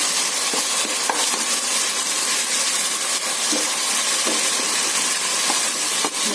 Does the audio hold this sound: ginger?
yes